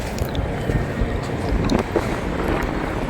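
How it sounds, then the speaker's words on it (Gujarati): Strong wind buffets the microphone on a rooftop at night beside a highway, a continuous loud rushing roar with steady gusts and no speech. "ફૂલ પવન આવે"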